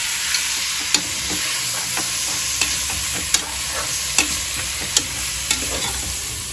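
Prawns coated in masala paste sizzle steadily in a pan for prawn biryani, with regular sharp clicks of a spoon stirring against the metal roughly every half second.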